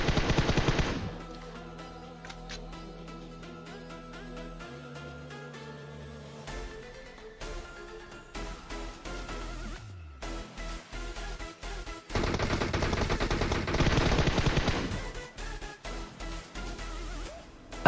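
Gunfire in a PUBG match, with loud bursts of automatic fire at the start and again later, separated by rapid single shots and quieter stretches of game sound.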